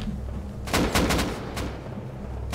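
A quick burst of gunshots in the survival game Rust, several sharp cracks clustered together followed by a couple of isolated shots, moderately distant with no talk.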